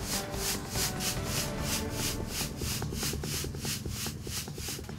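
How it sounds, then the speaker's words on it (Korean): Infield dirt from a baseball field is raked up and shaken through a sieve, giving a steady, loud gritty rubbing and scraping with a regular back-and-forth rhythm throughout, close by and without talk. "볼 위에 깔려있던 흙을 모두 긁어 모아 채를 이용해 걸러내는데요"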